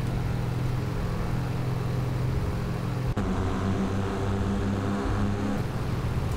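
A Diamond DA-42 twin-propeller plane in the X-Plane 10 flight simulator holds a steady droning engine hum for the whole stretch, with a brief click partway through and a shift in tone as the power changes for takeoff.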